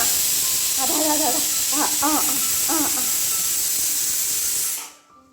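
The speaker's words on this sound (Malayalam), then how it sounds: "കുക്കറ് ശബ്ദം ഉണ്ടാക്കുന്നതാണേ" Steady, loud hiss of escaping steam, like a pressure cooker venting, with a few brief voice-like chirps partway through, then it stops abruptly.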